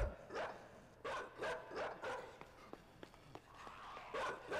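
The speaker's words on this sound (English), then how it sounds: "At this point, the dog gets mad at you and you run." A dog in the side-scrolling game INSIDE barks repeatedly and snarls while chasing, a rapid series of loud, close barks with scuffling footsteps between them.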